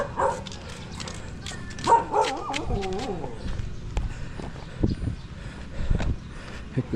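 Dogs barking, yipping and whimpering along a street in a barangay in Patikul, Sulu, with several nearby sharp barks and whines spread through the stretch over outdoor background noise.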